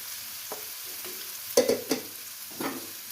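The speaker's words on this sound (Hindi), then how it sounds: "थोड़ा सा सब्जियां हैं तो हम इसको सौते करेंगे ताकि ये थोड़ी सी मुरझा सी जाए" Onion, capsicum and cabbage sauté in a pan with a soft background sizzle, broken by several sharp spatula clatters and scrapes against the metal, one louder burst near the middle; no one speaks.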